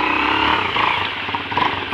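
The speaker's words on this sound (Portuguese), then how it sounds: "Vou ligar a moto também, menino!" A motorcycle engine on a trail ride runs close by with a steady, throaty putter and slight rev fluctuations, continuous throughout the short moment.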